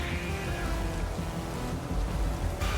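Steady rain weather effect during a Pokémon video game battle, a continuous broad wash of falling rain with low rumble underneath, holding at an even level throughout with a brighter burst near the end.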